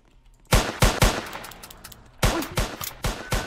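Bursts of loud gunfire in the Roblox game Liberty County, a rapid cluster of shots followed by a pause and another volley of close, sharp reports.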